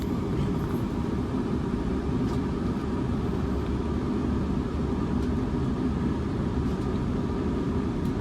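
An SWR Class 444 electric train runs at Clapham Junction with a steady, loud, low rumble and hum throughout, no voices and no clear breaks.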